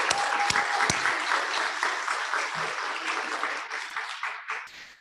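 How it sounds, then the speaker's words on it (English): Applause at a spring licensed vocational nursing graduation, honoring the nursing faculty: a dense crowd clapping steadily and then slowly tapering off. "So one big applause for all of the faculty."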